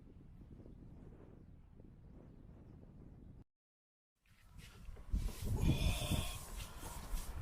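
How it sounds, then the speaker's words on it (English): Wind gusting across a remote campsite in Scotland, a low steady rumble for a few seconds, then a dropout, then louder buffeting that swells and presses close against the microphone. "The wind's really creeped up"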